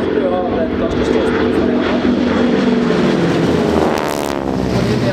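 Several aircraft fly past in formation at the Rygge air show, a loud continuous engine roar that swells and sweeps by, with a commentator speaking over it.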